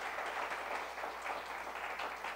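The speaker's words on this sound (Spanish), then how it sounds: "un abrazo de aplauso para ella" A church congregation gives a dense, even round of applause to welcome a visitor, the clapping moderately loud and sustained throughout without any speech.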